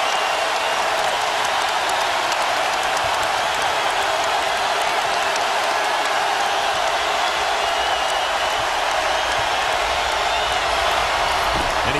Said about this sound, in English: Now the crowd getting loud, hoping he could somehow miss another.